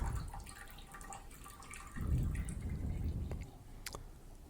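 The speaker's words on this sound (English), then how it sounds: "Water's going down pretty fast." Water drains from a bathroom sink through a newly installed clog-free drain, a steady gurgling swirl that grows fuller partway through, with a few faint drips and taps near the end.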